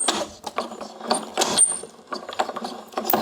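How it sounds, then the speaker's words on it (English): Die cutting machine cranked to press a letterpress plate, a run of close, uneven ratcheting clicks and grinding mechanical bursts with short gaps between them. "get our die cutting machine, send it through"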